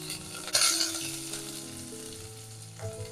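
Shallots, garlic, three small green chilies and curry leaves drop into hot oil in a pan, bursting into a loud crackling sizzle that settles into a steady frying hiss, with a brief stir near the end.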